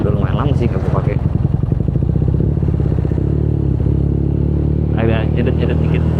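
A BMW motorcycle engine, unused for a long time, idles close by with a slightly uneven, stuttering pulse while someone talks over it.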